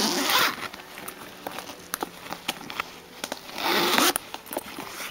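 A zipper on an ita bag, a display backpack with footprint-shaped zipper pulls, is drawn open in two quick rasping pulls with soft handling rustle and small clicks between them, heard close and fairly quiet.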